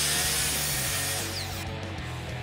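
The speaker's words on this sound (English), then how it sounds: "what we're gonna do first is cut all of our pieces down to length" Power saw cutting 2x4 and pine lumber to length, a steady close whining drone that shifts pitch slightly as the blade works through the wood, with no talking.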